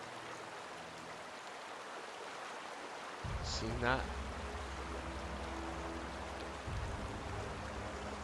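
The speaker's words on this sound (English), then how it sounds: "I love how water effects are in games." Steady flowing water from The Outer Worlds game, a faint broadband rush running throughout, with someone briefly speaking over it and a low musical drone entering partway.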